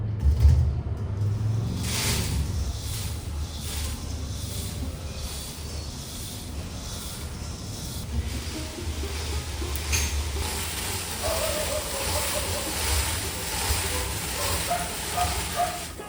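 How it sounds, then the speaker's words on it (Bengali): Store-bought puffed rice (khoi) being shaken through a sieve to separate out paddy grains and sand, making a continuous dry rustling hiss with faint creaks, close by. "তাই আমি একটা চালুনি নিলাম চালুনি দিয়ে চেলে নেব"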